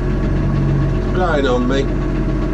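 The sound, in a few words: small tractor engine running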